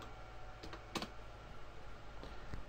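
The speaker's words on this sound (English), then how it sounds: "I'm going to go to Google and type in Google My Business" Soft clicks of typing on a computer keyboard come in a few short, irregular bursts, close and fairly quiet, with no talking.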